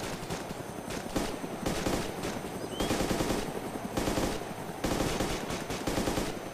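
Rapid gunfire in the video game ARMA 2 DayZ, bursts of automatic shots with short pauses between them, loud and continuous across the whole stretch.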